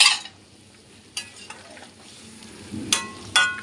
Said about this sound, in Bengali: এখন আমি এর ভিতর পনির, আলু যা যা আছে সব ঢেলে দেব।